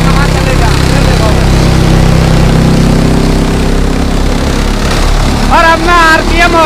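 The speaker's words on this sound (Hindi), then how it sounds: "ट्रैक्टर कितनी आरपीएम पे चल रहा भाई, आवाज पे गौर करियो" A heavy diesel Swaraj 855 tractor engine runs steadily at high revs, a loud low throbbing drone, with a voice briefly speaking over it near the end.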